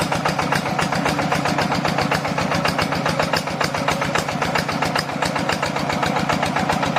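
An old Yanmar tractor's diesel engine runs close by with a rapid, even chugging beat, holding a constant idle throughout.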